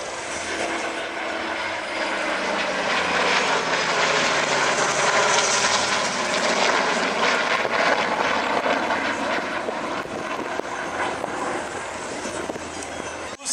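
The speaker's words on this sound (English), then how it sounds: "the Navy Legacy flight will pass show center and perform the opposing pitch-out maneuver for landing" Navy Legacy flight warplanes, World War II era tailwheel aircraft, roaring past show center at the 2021 Dayton Airshow, a loud sustained engine drone that swells and slowly shifts in pitch as the formation passes overhead.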